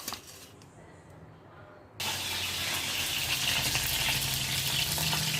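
Green chillies and chukka kura greens fry in hot oil for a chutney, starting quiet and then breaking into a loud, steady crackling sizzle that continues to the end.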